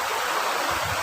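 River water rushing at its source in a cool wading spot, a continuous broadband flowing roar, steady and close, with no voices.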